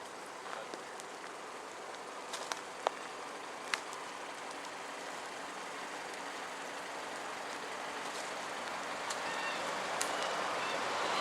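Light rain patters steadily at an outdoor train station platform, a faint continuous hiss with a few sharp distant clicks and knocks scattered through.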